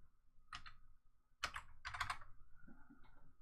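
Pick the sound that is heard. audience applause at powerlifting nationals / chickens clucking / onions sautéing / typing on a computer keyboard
typing on a computer keyboard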